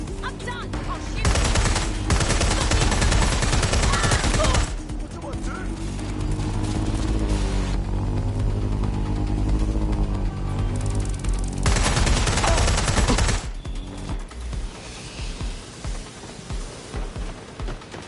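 Rapid bursts of automatic gunfire in the Watch Dogs Legion video game, loud and dense in long volleys with brief pauses, mixed with game effects and crashing noise.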